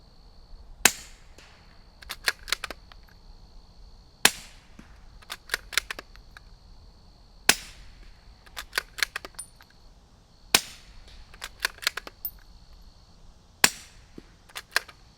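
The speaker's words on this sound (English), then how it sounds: "Let's shoot this, see how much of a sound difference we get." Sharp, quiet suppressed .22 rifle shots in clusters, a single shot followed by several quick pops, repeating in groups with a faint ringing hum between them.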